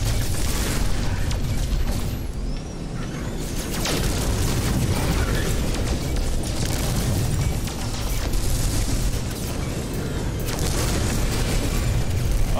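Rockets firing and exploding in No Man's Sky space combat, a dense, continuous roar of booming blasts and rumbling bursts, loud throughout with slight dips in intensity.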